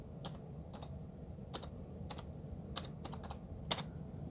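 A password being typed on a computer keyboard in a quiet room, a quick irregular run of soft key clicks, about a dozen taps spread over a few seconds, close and alone.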